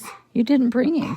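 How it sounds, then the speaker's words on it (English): A dog barks and yips a few times close by while a person speaks over it. "If you guys can hear that barking"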